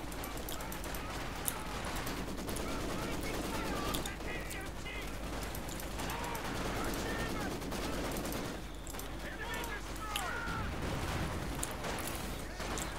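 Machine-gun fire in a Company of Heroes 2 4v4 battle with British forces: quiet, dense rattling bursts and distant battlefield booms, with voices talking over them.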